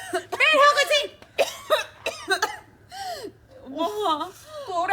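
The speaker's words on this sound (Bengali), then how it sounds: "মা তোর এই কাশি না আমি একদম সহ্য করতে পারতেছি না" A woman coughing in a Bangla drama scene, several harsh, raspy coughs in irregular bursts with gasping breaths between them, close and fairly loud.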